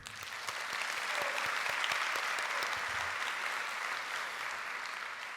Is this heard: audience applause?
yes